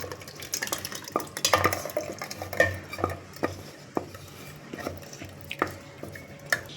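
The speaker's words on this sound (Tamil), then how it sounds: "இப்போ ஆறிடுத்து நம்ம இதை மிக்சியில் ஊற்றிடலாம்" Boiled rusk ice cream mixture poured into a mixer jar, with irregular clinks and knocks of utensils and the jar, soft sloshing and scraping over a quiet kitchen background.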